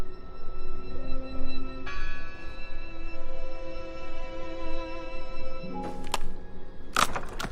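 A bell rings out in the horror video game Draugen, with sustained metallic tones layered over a low ambient drone, followed near the end by a couple of sharp, bright strikes.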